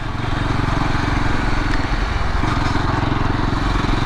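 A 2022 Yezdi motorcycle cruising in gear, its engine chugging with a steady, loud, throbbing low-pitched rhythm plus wind noise throughout, close up and uninterrupted.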